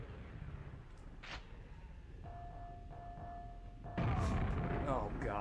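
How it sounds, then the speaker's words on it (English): Grenade explosions in Quake on the N64 on Nightmare difficulty, low rumbling booms that swell into a louder burst near the end, mixed with game tones and a voice talking. "It's like they're just shitting fucking grenades constantly."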